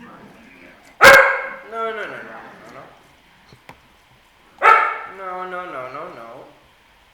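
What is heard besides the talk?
dog barking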